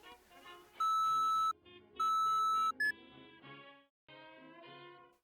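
Electronic phone tones beeping in a radio comedy sound-effects booth: two long steady beeps, a short chirp, then a run of shorter melodic tones, loud and clear with no talking.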